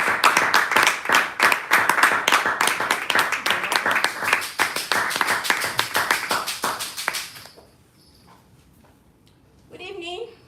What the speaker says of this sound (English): With a resounding round of applause.